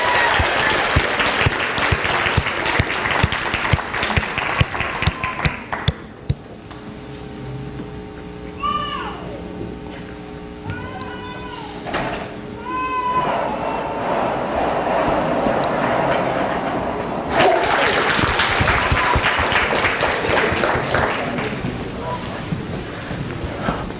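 An audience gives a pageant's contestants a big round of applause, loud and sustained at first, then fading under scattered talk before a second strong burst of clapping near the end.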